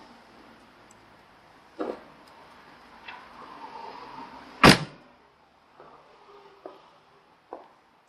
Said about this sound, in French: de nombreuses touches ici qui vous permettent de moduler le véhicule plus facilement, donc rabattre les sièges